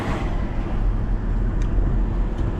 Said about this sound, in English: we got a big bus coming.